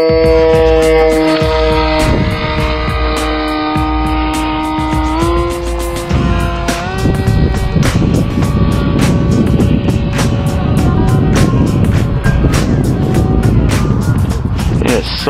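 MegaFly RC plane on a 3-cell battery, its electric motor whining steadily through the flight in a light breeze, the pitch stepping between throttle levels over constant wind rumble.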